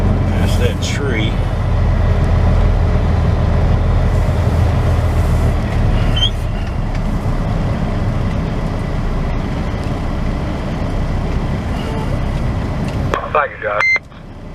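A flatbed semi truck pulls out and rolls slowly along the roadside at a scrap yard, its engine a steady low rumble near the microphone, with brief beeps and a hiss of air near the end as someone talks.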